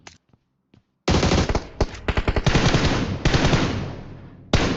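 Automatic gunfire in PUBG Mobile during a PMSL Europe esports finals match: a loud, rapid burst that breaks out after a second of near quiet and keeps going in dense, stuttering volleys, with no voices over it.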